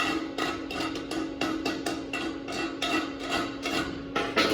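A hand wire brush scrubs slag from a 6010 butt weld on steel in quick, repeated rasping strokes, each scrape close and fairly loud in an uneven rhythm.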